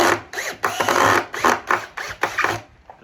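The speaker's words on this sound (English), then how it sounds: "now to wire it shut, just get these screws." A power driver drives screws into a wooden wood duck nest log, giving several short whirring bursts in an uneven rhythm, close and fairly loud, ending with a faint click.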